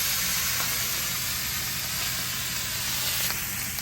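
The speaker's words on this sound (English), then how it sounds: "to make it extra sizzling, we just put some lemon juice all around it" Loud, steady sizzling hiss of tandoori king prawn searing on a hot plate with lemon juice poured around it, continuous and close throughout with faint crackles on top.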